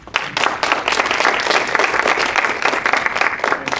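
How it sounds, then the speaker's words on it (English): A crowd applauds contestants called up front at a tall-tales speech contest: steady, dense clapping that starts almost at once and holds at an even, fairly loud level for about four seconds. "So please give a round of applause for Maria Moreno"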